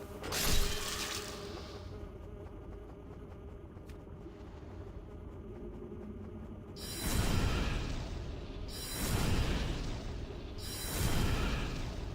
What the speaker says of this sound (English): Why do they sound like bees?